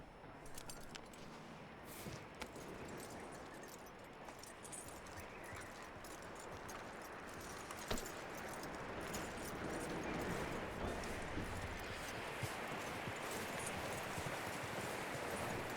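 Horse hooves clip-clop steadily in a video game, a continuous trotting rhythm amid jangling tack and a busy background, moderately faint and unbroken by talk.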